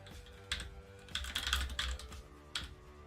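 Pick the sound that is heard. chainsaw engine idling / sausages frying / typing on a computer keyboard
typing on a computer keyboard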